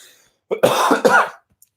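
Two close, harsh coughs in quick succession, loud and near, with silence before and after.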